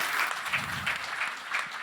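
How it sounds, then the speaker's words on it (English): Steady audience applause at a game-pitching event, a crowd clapping continuously at moderate volume with no talking over it. "Give a round of applause, please."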